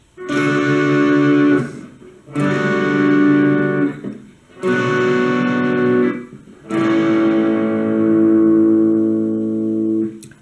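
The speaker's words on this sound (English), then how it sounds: "While he's singing, we're just picking the chords once." Distorted electric guitar chords struck once each, four in a row, every chord left to ring for a couple of seconds before the next.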